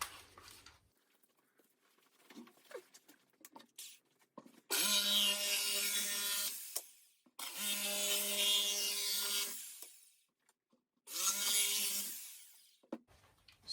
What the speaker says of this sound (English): there's quite a lot of split wood coming from this jigsaw